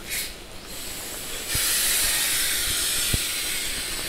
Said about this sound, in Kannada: ಪ್ಲ್ಯಾಟ್ಫಾರ್ಮ್ ನಂಬರ್ 1ಅಲ್ಲಿ ನಮ್ಮ ಟ್ರೈನ್ ಇದೆ ಮೆಮೊ